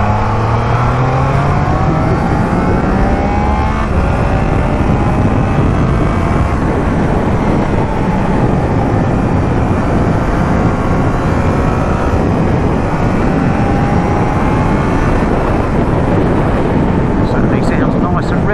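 A motorcycle engine revs hard under throttle, heard from a helmet camera, its pitch climbing and falling through the gears beneath loud, constant wind roar.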